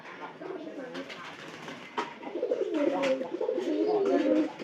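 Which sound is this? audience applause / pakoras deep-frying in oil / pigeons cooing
pigeons cooing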